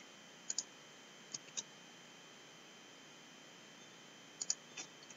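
Computer mouse clicking, a few crisp, faint clicks in pairs and singles scattered over a steady low hiss, with no voices.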